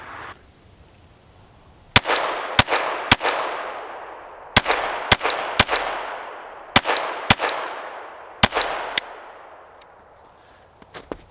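A Glock 44 pistol fires about ten sharp, loud shots in quick pairs and triplets, each crack followed by a ringing outdoor decay, with short pauses between groups.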